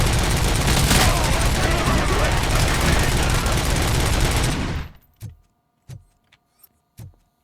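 Sustained loud gunfire from RoboCop: Rogue City fills most of the stretch, a dense barrage that cuts off abruptly, followed by a few isolated sharp cracks spaced apart.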